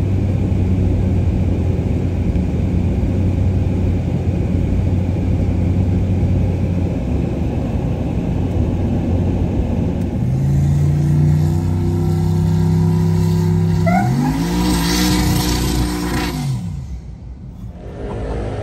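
A Chevrolet Malibu drag race car on a test pass: a loud steady engine rumble that builds into rising revs, then fades away near the end.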